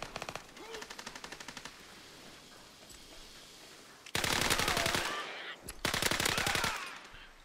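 Machine-gun fire in a WW2 video game: a quieter run of rapid automatic shots, a pause, then two loud, close bursts of fast gunfire separated by a short gap.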